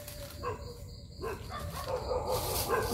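Dogs bark at night beside a riverside spot where people fish for gobies, a few short yips and barks rising over a constant noisy background of insects and water.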